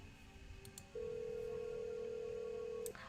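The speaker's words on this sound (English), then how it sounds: "The phone rang for a few times, but no one picked up." Phone call tone in the horror video game Cemetery Mary, a single steady electronic tone held for about two seconds, clear and alone over faint background hum.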